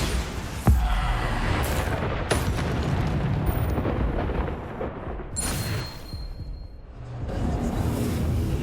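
Bombarda spell explosions in Hogwarts Legacy, a sharp blast followed by dense rumbling debris and whooshing bursts that stay loud and continuous throughout.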